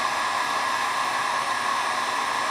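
A heat gun blows hot air onto acrylic tubing to soften it for bending, giving a constant, even, close whooshing hum with no pauses or talking.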